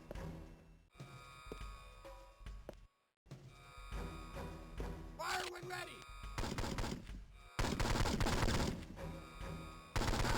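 Gunfire in 007: Nightfire on the Game Boy Advance thuds and rattles in repeated bursts, growing denser toward the end, amid busy game sounds, with a voice talking over it.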